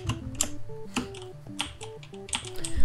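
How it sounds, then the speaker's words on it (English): A computer keyboard clicks steadily and quickly in close, crisp keystrokes during Minecraft play, under a light stepping in-game melody. "You're gonna hear like my keyboard clicking all the time."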